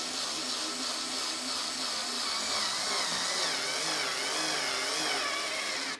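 A FERM cordless screwdriver drives a thicker screw into wood, giving a steady whining motor drone that strains slightly as it runs for several seconds, loud and close with no voices.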